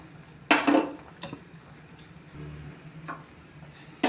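A spoon scrapes and clinks against a pan in a few separate strokes while stirring jackfruit kesari with roasted cashews and almonds, with a soft simmering background and long quiet gaps between.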